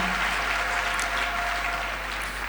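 A church congregation applauds steadily throughout, a dense, even wash of clapping from a crowd.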